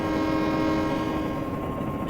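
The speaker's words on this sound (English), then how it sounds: "Yeah, that's the whistle." A steam locomotive whistle on the Columbia Valley Pacific Railway in Train Simulator 2020 sounds as one long, loud, steady chord-like blast over low engine rumble, without talk.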